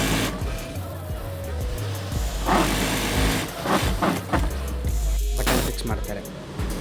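An industrial sewing machine runs in quick bursts, stitching the bottom hem of jeans in a garment shop, its rapid mechanical whir starting and stopping under someone talking.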